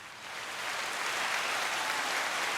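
An audience breaks into applause, a soft, steady patter of clapping that builds slightly and holds for a few seconds, fairly faint and distant.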